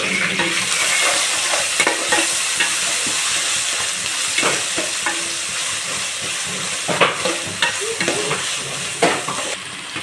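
Chopped tomatoes fry in a pan for a chicken kurma, giving a loud, continuous sizzle broken by scraping and clinking stirs of a utensil against the pan. No one speaks.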